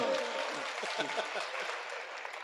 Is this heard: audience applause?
yes